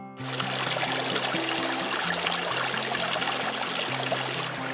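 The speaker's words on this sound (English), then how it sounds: "This is the creek that eventually flows out of the lake." Mountain creek flowing out of a lake in the backcountry, a continuous close rushing of water that holds steady throughout, with a low humming drone beneath it.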